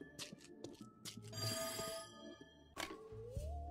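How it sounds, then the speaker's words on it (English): A telephone rings in the There Is No Game video game, a bright ringing tone mixed with other game sounds and effects, moderately loud, with no talking. "Pick up the phone, dammit!"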